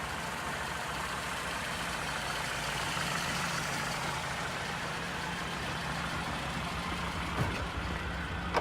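A Lancia Flavia engine idles while warming up, a steady low rumble heard faint and unbroken throughout, with no talk.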